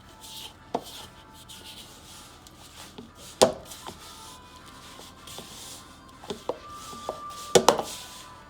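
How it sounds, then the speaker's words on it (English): Dry ingredients for Irish brown bread being stirred together in a bowl, soft rubbing and scraping with a few sharp knocks of the spoon against the bowl, close and fairly quiet, no talking. "begin to mix it all together"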